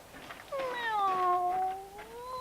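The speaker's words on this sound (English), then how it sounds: "That evening, the old lady came back with a cat." Cat giving a single drawn-out meow with a rising then falling pitch, close and clear against a quiet background, lasting about two seconds.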